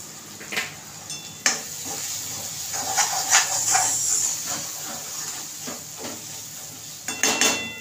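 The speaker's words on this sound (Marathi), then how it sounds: "तर मी थोड्या वेळाने फ्राय करते. आणि हा पनीर मसाला टाकते" Paneer masala gravy frying in a pan, a steady close sizzle and hiss running throughout, with a few sharp stirring and utensil knocks, the loudest near the start and again toward the end; no talking.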